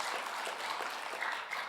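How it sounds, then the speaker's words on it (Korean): A church congregation applauds the Hosanna choir with a steady, faint wash of clapping heard from a distance, with no voices over it. "우리 한번 힘차게 호산나 성가대에게 박수를 보내드리겠습니다"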